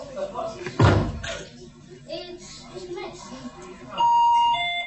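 A novelty electronic doorbell plays a tune, then slides into garbled, haywire tones, with sustained bright chime notes toward the end, heard indoors alongside a sharp knock-like thud and some background talk.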